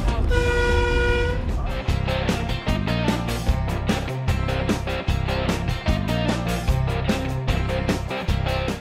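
Car horns honk repeatedly in road traffic at an intersection, a long steady blare followed by a series of shorter toots over constant engine and road noise.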